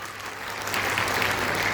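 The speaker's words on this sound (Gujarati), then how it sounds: "નિલેશભાઈ માટે જોરદાર તાળીઓ થઈ જાય" Students at a book-distribution event in Kalol break into applause, a dense, steady wash of clapping that swells slightly, sounding a little distant with no speech.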